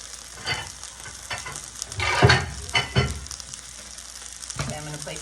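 Food laid onto a heated pan for sautéed vegetables sizzles in a steady frying hiss, with a few louder bursts as pieces land and are stirred, close and clear.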